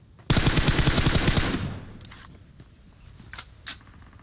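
A loud, rapid burst of automatic gunfire from a PUBG Mobile match lasts about a second, then drops away to quieter scattered clicks and a couple of faint later shots.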